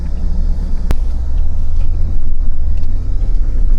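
A full-size pickup truck creeps slowly along an off-road OHV trail, its engine a steady low rumble close by with one brief sharp knock partway through, and no talking.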